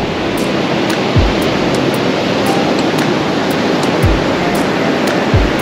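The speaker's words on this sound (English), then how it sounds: "we're down at the beach" Ocean surf rolls onto a beach at Big Sur, California, a continuous loud wash of breaking waves with a few low thumps, and no voices.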